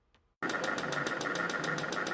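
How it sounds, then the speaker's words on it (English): A 3D printer at UT Austin's Cockrell School of Engineering tattooing ink onto a person's head gives a steady, loud mechanical buzz with fast rhythmic pulses, starting abruptly after a brief quiet moment and running on alone. "This 3D printer at UT Austin's Cockrell School of Engineering uses ink to tattoo a person's head."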